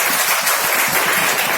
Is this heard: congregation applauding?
yes